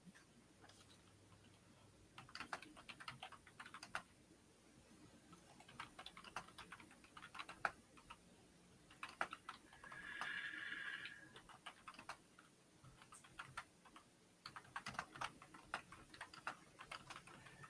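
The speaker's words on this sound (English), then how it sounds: "Sorry if you hear my typing." Soft keyboard typing in irregular bursts of quick clicks, fairly faint against a quiet room hum, with a brief brighter tone midway.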